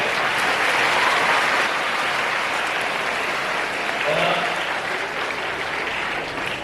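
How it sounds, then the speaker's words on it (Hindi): Audience clapping at a motivational speech by the founder of Young Tinker Academy: a steady, full wash of applause from many hands, loud and continuous, easing slightly near the end. "जिसको अच्छा लगेगा हम लोग ताली बजाएंगे"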